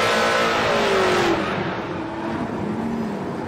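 Drag race cars in the 860 Street Race Class at an NMRA event launch and accelerate hard, a loud roaring engine surge that rises in pitch and then recedes into a fainter, distant drone.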